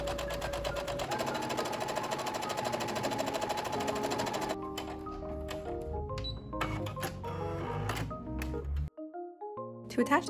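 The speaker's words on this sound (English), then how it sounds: "I gathered down each of the ruffles for the shoulder straps and inserted them inside the little opening before sewing it in place." Sewing machine stitching gathered ruffles onto the shoulder straps of a summer Lolita dress, running in steady bursts with short pauses and restarts, alongside soft background music.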